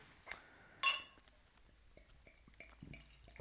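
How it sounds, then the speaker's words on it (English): Dark Equilibrium Brewing Möbius porter goes into a porter glass: a sharp glassy clink, then a soft, quiet trickle and fizz with scattered small drips and taps. "get this poured right in our nice porter glass here"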